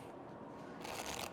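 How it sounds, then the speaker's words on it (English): A quick riffle shuffle of a six-deck stack of playing cards, soft at first then a crisp burst of fluttering card clicks near the end. "Riffle, riffle, strip."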